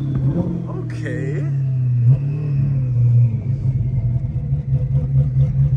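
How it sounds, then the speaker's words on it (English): A C8 Corvette with its mid-mounted engine right behind the cabin revs and accelerates, a deep rumbling drone that swells and holds from inside the car, while people talk over it. "I'm still tripping how the engine right behind us, y'all."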